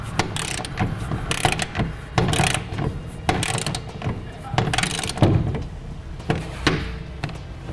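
A ratchet tightens nylon lock nuts on a BAK Revolver X2 hard tonneau cover on a 2015 Ram, giving uneven clicking strokes with metallic knocks, heard up close.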